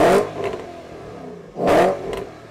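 A 2014 Porsche Panamera with its sport exhaust engaged gives two loud, sharp revs about a second and a half apart, each a quick roaring burst that falls away into a lower idle burble.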